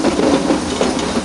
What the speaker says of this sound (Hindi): यह ट्रेन अब एक पतली सी सुरंग के रास्ते जाने वाली है